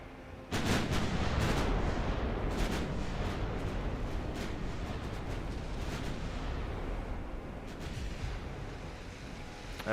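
Heavy naval gunfire from warships in Ultimate Admiral Dreadnoughts booms loudly after a short lull, a sustained barrage of deep artillery blasts and rumbling impacts rolling on for about ten seconds without speech.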